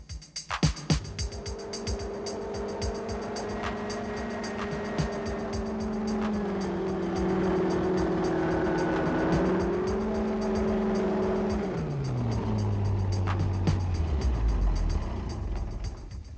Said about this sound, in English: They call this a hover ride, and as you just saw, this baby can motor anywhere on and off the land